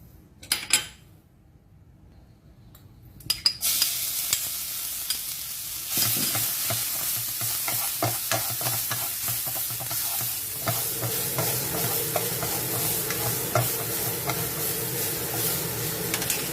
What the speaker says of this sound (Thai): ผัดให้หอมเลยนะครับ